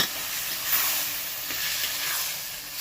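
Broccoli and carrots fry in a pan with a little water added, giving a steady close sizzling hiss with soft stirring swells throughout.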